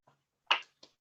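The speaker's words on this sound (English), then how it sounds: "That's just me clapping." A single sharp hand clap, close and fairly loud, after a faint earlier tap and followed by two softer taps, at the end of a talk on Scottish engineering.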